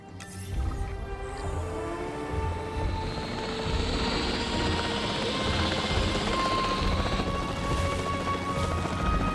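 The capture team helicopter in the video game Jurassic World Evolution 3 thrums steadily with a low rotor beat under a whining turbine, holding close and constant, with faint game effects around it.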